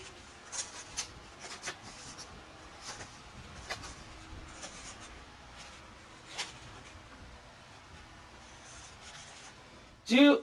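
Scissors snip through folded paper along the fold, a faint, scratchy cutting sound in short, irregular strokes that ends in one louder burst.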